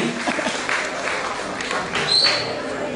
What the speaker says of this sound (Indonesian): Kita berikan tepuk tangan untuk atlet dari Banjar Gunung Pande.